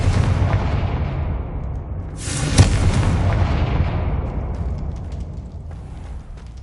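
A Confringo blasting curse detonates in the Hogwarts Legacy video game, one heavy booming explosion with a sharp crack at its peak, loud and close over a dense rumbling background, then a long decaying roar.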